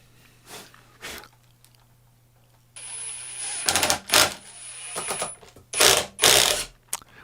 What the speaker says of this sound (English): with my handy-dandy impact driver, I'm going to drive all 4 screws into place